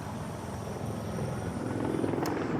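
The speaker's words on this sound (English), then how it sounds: "we're seeing an LAPD helicopter now circling overhead" An LAPD helicopter circles overhead above Skid Row in Los Angeles, its rotor and engine making a steady, broadband droning that stays fairly loud with no talk over it.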